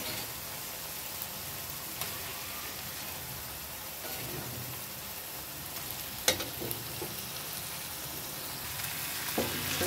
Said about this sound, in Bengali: এখন এর ভিতরে একটা একটা করে মাছগুলো দিয়ে দেবো।